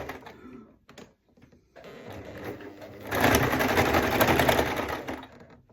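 A sewing machine stitching an oversized hot pad in short starts and stops, then a louder, steady run of rapid mechanical stitching that fades at the end.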